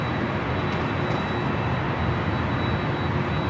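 China Eastern Boeing 777-300ER airliner taxiing toward a north side takeoff at LAX, a steady loud jet engine roar and rushing wash with a thin high whine running through, continuous without speech.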